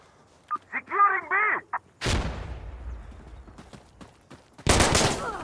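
Two loud, sharp TAC 338 rifle gunshots in the Insurgency Sandstorm video game, each followed by a long, rumbling echo tail, with a brief voice-like sound beforehand.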